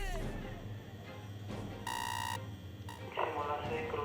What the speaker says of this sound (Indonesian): Simulasi kerusakan pompa AC1 sudah diterima, alarm sudah berbunyi.